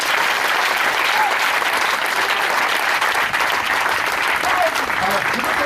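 A church congregation breaks into loud, sustained applause during a Sunday service, steady dense clapping filling the room from start to finish with no gaps.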